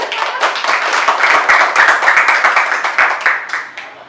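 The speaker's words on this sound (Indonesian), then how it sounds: "Kasih tepuk tangan untuk" Students and staff clap for several seconds at an Easter school service, a dense, steady patter of many hands that fades out toward the end.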